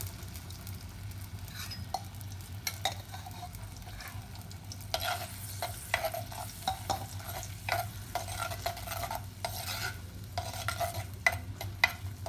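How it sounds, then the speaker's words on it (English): Tomato puree sizzles and spatters in hot spiced oil, a soft, steady frying hiss broken by irregular stirring scrapes and small pops from the pan, quiet and close with no voices. "Next, we add in our tomato puree."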